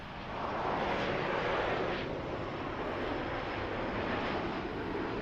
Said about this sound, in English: next up, a Embraer E195 from San Francisco. There it is.